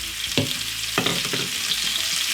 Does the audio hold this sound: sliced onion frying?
yes